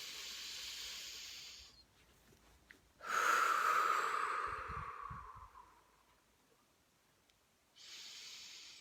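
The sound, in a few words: deep breath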